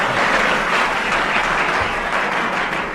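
Studio audience applauding during a radio comedy panel game, a dense, steady wash of clapping that holds loud and even throughout with no voices over it.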